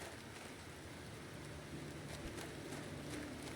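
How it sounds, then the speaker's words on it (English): Steady rainfall in the video game Planet Crafter, a soft even hiss of falling rain with faint low rumble underneath, continuous and quiet with no talk. "We have rain!"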